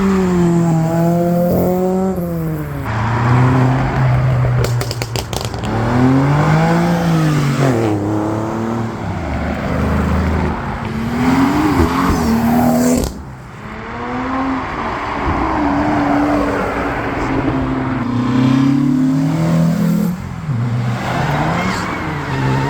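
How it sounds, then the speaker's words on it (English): A Porsche 911 leaves a classic car meet, its engine revving repeatedly through rising and falling gears, loud and close, with a pass of strong acceleration midway. "That Porsche 911 is departing."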